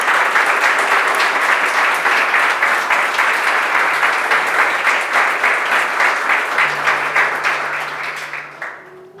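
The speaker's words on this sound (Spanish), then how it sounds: "dese un fuerte aplauso en el nombre de Jesús" A church congregation bursts into loud, sustained applause and cheering at a worship service, the clapping dense and steady throughout before tapering off near the end.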